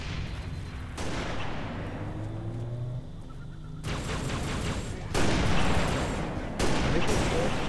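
Rapid bursts of gunfire from the video game Halo Reach, in a cooperative Legendary campaign, sound as dense, loud volleys that cut in and out across the clip while players talk over the shooting.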